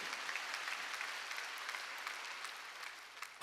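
Applause from a church congregation at a Wednesday worship service, a steady wash of clapping hands that runs evenly for a few seconds and stays fairly faint and distant throughout.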